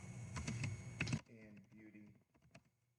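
Fingers type quickly on a computer keyboard in a close, dense burst of keystrokes for about a second, then a voice speaks over a few faint taps.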